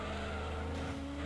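Race car engine roaring steadily in Gran Turismo 2 with tires skidding and squealing as the car slips, a dense continuous drone lasting just over a second with no talking.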